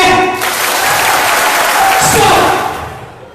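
An audience at a youth program talk claps hands on command, a dense burst of applause that holds steady before fading out at the end.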